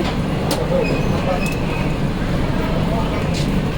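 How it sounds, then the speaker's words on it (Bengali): The Sealdah to Banaras Duronto Express pulls out of Dhanbad station with a loud, steady rumble heard from aboard, faint squealing tones and a few brief knocks over the running noise. "এখন ধানবাদ থেকে আমাদের ট্রেনটা এগোচ্ছে"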